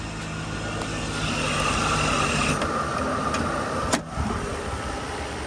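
A 1994 Mercedes-Benz S600 with an engine burning a little oil idles steadily nearby, a smooth continuous hum broken by a brief click near the end.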